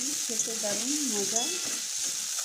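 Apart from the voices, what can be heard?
boiled eggs frying in oil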